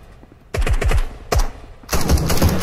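Video game gunfire rings out in sharp, loud automatic bursts: one rapid volley, a short second burst, then sustained dense firing, close and with no talking.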